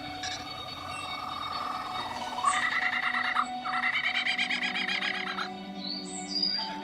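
A male lyrebird mimics a kookaburra, giving a rising series of rapid, rhythmic cackling bursts that swell and repeat over a low background hum, fairly faint and close.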